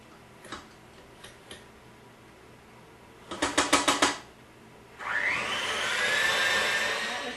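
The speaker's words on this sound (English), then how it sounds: "we'll mix it till it's all blended" An electric mixer blends pumpkin pie filling, starting after a few light ticks and a quick run of clattering taps, then a steady motor whir that continues to the end at close range.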